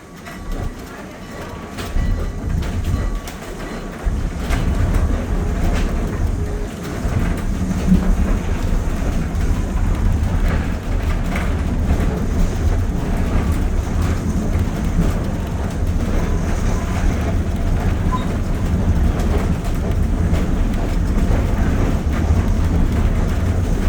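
A passenger ride behind steam locomotive No. 2024 gives a steady, loud rumble of rolling cars with faint rhythmic wheel clatter, building after the first few seconds and holding throughout.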